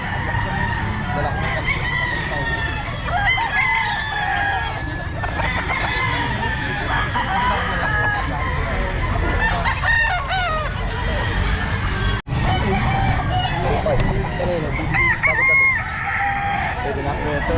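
Roosters crow repeatedly amid clucking chickens at a busy pet market, many birds overlapping at close and middle distance in a continuous din, with people talking underneath.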